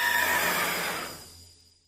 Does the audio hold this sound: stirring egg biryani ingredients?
no